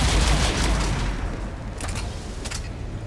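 Rapid gunfire from the Mass Effect 3 video game, a dense, loud burst of shots running steadily through the whole moment with no pauses and no voices over it.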